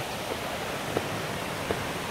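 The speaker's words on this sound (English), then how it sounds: "Now we're definitely hitting a waterfall area." A waterfall on the Hornbeck Trail gives a steady, even rush of water that fills the whole clip, with two faint clicks standing out briefly.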